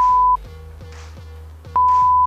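A loud, steady censor beep sounds, breaks off for a stretch of low rhythmic thumping, then sounds again twice near the end.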